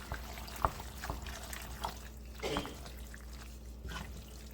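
Pasta water poured into a thick chicken Philly cheesesteak pasta sauce and stirred, giving faint wet trickling and soft sloshing with a few light clicks over a low steady hum, no talk.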